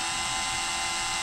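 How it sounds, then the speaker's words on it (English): An electric drill spins a Mopar RB383 engine shaft, giving a steady, high-pitched whine that holds constant and fairly near throughout, with no talk. "chuck this up in the drill just lightly"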